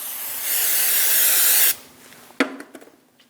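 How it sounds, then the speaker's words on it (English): A close aerosol spray of brake parts cleaner onto a rag hisses steadily for over a second and cuts off, followed by a few light knocks and handling sounds, during a Chevrolet Express 2500 front brake job. "Using a clean rag with some brake parts cleaner, I'm going to spray my rag."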